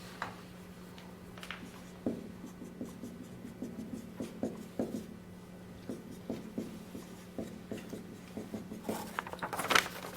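An equation being written out by hand, a pen or marker scratching in quick irregular strokes for ten seconds, close and fairly clear over a steady low hum, with no one speaking.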